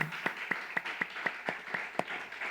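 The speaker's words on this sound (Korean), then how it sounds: "우리 먼저 하나님 앞에 영광과 감사의 박수 올려드립시다." A church congregation at a Sunday worship service claps in unison, with about nine evenly spaced, moderately soft claps at a steady rhythm.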